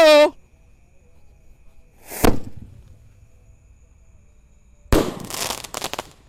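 Fireworks at a night-time festive celebration, with Roman candles, rockets and bazooka-style launchers: a sharp whooshing launch near the start and a loud burst and crackle at the end, with a brief voice at the very beginning.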